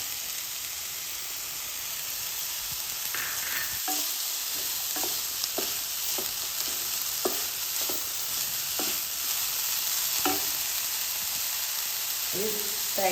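Grated coconut stirred in ghee in a pan for a sweet elanji filling with crushed cardamom, giving a steady frying sizzle and hiss with repeated scraping spoon strokes, moderately loud throughout.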